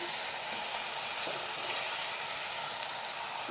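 Ground dal goes into hot oil tinted with turmeric in a kadai, giving a steady, close, even sizzle that continues throughout with no talking.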